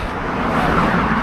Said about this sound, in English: So many cars on this road.